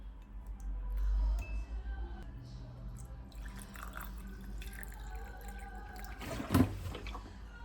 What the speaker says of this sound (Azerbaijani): Ona görə də özümə limonlu su hazırladım ki, limonlu su içim.